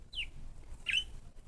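A pet bird sings two short, bright chirps about a second apart, quiet and close, with nothing else over them.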